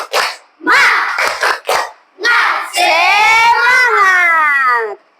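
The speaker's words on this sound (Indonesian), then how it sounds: "Kita kasih dulu semuanya tepuk semangat" Schoolchildren in a classroom perform a rhythmic clapping chant, with a few sharp group claps followed by a loud, sustained chorus of young voices calling out together.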